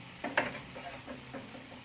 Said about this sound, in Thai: ก็เอาไป ผัดกับพริกแกงของเรา ให้ส่งกลิ่นหอมๆนะคะ